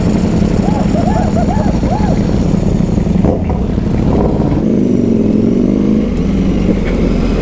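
Superbike engines rev on a night group ride through New York City, a loud continuous motor roar with rising pitch sweeps and a steady low drone throughout, no speech over it.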